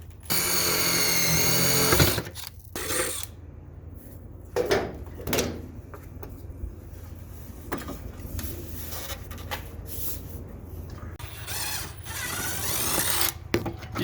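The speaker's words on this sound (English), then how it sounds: "I'm gonna drill those rivets in first." Power drill driving rivets into an RV roof during a TPO membrane install, a loud whirring burst at the start followed by quieter clunks, handling knocks and short drill pulses, then a rising whine near the end.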